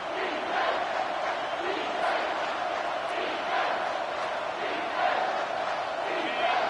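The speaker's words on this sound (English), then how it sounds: "this crowd will blow out a vocal cord to help this defense" A college football stadium crowd roars steadily and loudly on a third down, a dense, sustained wall of cheering that swells slightly in places without any break.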